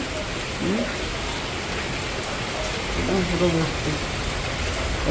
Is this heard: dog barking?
no